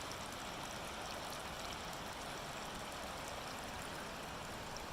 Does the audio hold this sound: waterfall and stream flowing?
yes